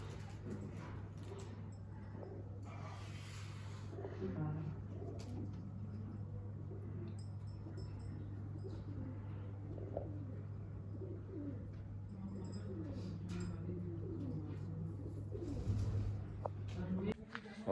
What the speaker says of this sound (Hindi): उड़ा है भाई सारे कबूतर